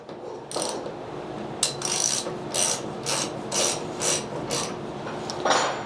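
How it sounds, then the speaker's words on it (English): A Schunk KSC-F 125-362 machine vise ratchets as a 1-2-3 block is clamped by its flat face, a run of close, evenly spaced mechanical clicks and grinding bursts with no speech. "So I'm just going to show you clamping the 1-2-3 block with the flat face right here."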